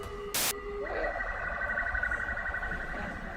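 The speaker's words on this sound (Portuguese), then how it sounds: "É ambulância, besta! Nem aqui em São Paulo eu escapo da ambulância." An ambulance siren on a São Paulo street starts with a brief steady tone and then rises into a loud, sustained wail over constant city background noise.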